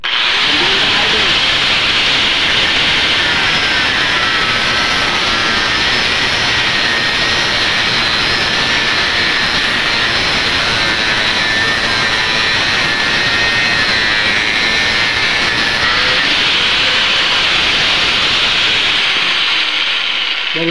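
An electric sander works over a broken rear passenger-seat mount from a motorcycle under repair, producing a loud, steady, close-up hissing whir of abrasion that runs continuously without pause.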